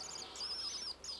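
A small bird chirps continuously in high, quick tweets, fairly close and alone, with a soft background hiss.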